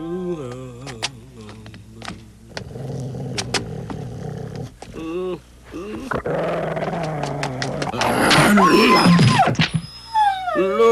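A dog growls and snarls in rising bursts, close and aggressive, with voices talking intermittently around it.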